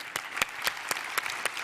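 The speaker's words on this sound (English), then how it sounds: "I propose an applause for the speakers." Audience at a European water innovation conference applauding the speakers, a steady wash of clapping with sharper individual claps standing out at regular intervals, moderately loud and unaccompanied by talk.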